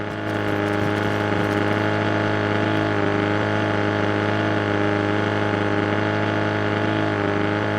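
Motorboat engine in the DayZ video game on the DeerIsle map: a steady, droning hum with a strong, even tone that runs unbroken throughout, loud and close, with no talking.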